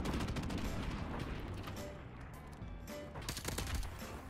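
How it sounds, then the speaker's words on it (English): Gunfire in a first-person shooter video game, dense rapid bursts of shots that run almost without a break and swell again near the end, loud and close. "I don't know where he is, but we'll shoot for fun."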